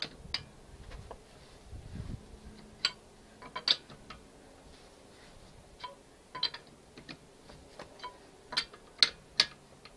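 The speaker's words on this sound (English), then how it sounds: "Now we can loosen the lug nuts." Loosening the lug nuts on a VW Jetta wheel during a tire change gives faint, scattered metallic clicks and ratcheting ticks, irregular and quiet against a low background, with no talk.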